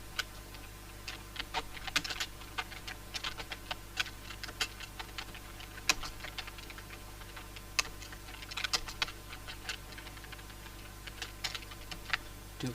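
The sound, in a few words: typing on a computer keyboard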